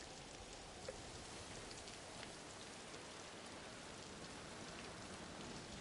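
Steady rain in the video game Ghost of Tsushima, a soft, even hiss of drops falling on surfaces that carries on without a break, quiet and with no voices.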